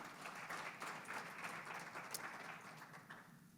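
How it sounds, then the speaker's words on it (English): Steady applause from an audience welcoming a panel, a dense patter of many hands clapping at once, holding even for a few seconds before easing slightly at the end. "One round of applause for them"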